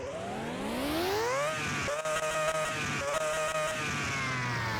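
A high-pitched open-wheel race car engine whine in Car Mechanic Simulator 2021 climbs steeply as it revs, then drops and climbs again through quick gear changes, loud and close.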